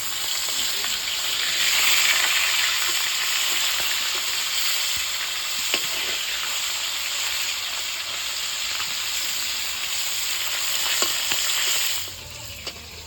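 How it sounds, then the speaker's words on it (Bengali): Steady, loud sizzling of fish frying in hot oil, a continuous crackling hiss that drops away sharply near the end. "মাছটা এক পিট ভাজা হয়ে গেছে এবার একটা একটা করে উল্টে দেবো"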